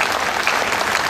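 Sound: audience applause

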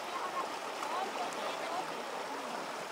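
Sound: muddy flood water flowing into a well

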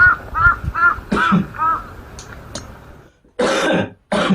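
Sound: cough

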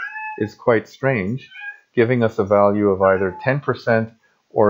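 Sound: cat meowing

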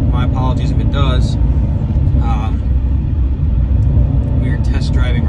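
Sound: C7 Corvette Stingray driving

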